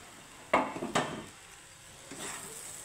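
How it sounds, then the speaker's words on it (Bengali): Fried okra tipped into a pan for a chickpea-lentil dish lands in two sharp clattering thumps close by, followed by a softer scrape and faint sizzle, with no talking. "তো এখন আমি দিয়ে দিব ভেজে রাখা ভেন্ডি।"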